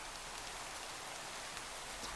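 Steady, soft rainfall in the video game TerraFirmaGreg, a constant even hiss of drops with no talking over it.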